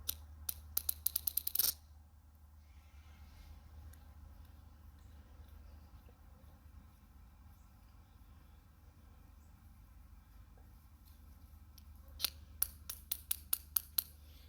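A thread tap works into a metal crossguard part of a Kylo Ren lightsaber, making rapid bursts of tiny metallic clicks at the start and end with a quiet low hum between, very close.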